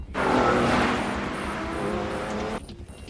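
Anime race cars in Initial D speed through a mountain hairpin: loud, close engine roar with a screeching tire squeal, sustained for about two and a half seconds before easing off.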